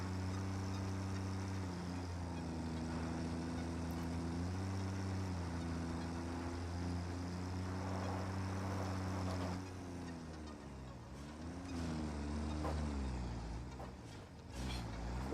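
A tractor in the game Satisfactory drives steadily with a constant low engine drone and engine harmonics that shift pitch as it changes speed, with a rougher, varying passage near the end; no one speaks.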